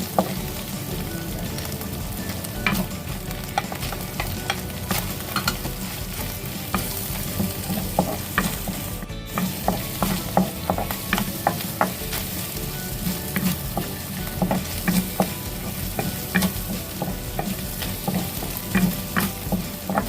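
Garlic sizzles steadily in a hot pan while making ginataang sitaw, loud and continuous frying crackle with a spatula stirring and scraping throughout, no voices.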